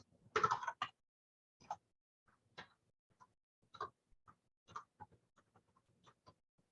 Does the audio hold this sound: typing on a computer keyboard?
yes